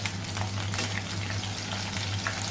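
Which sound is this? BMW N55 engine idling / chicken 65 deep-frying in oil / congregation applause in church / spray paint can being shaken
chicken 65 deep-frying in oil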